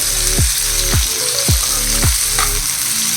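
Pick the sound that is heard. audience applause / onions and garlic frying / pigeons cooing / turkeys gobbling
onions and garlic frying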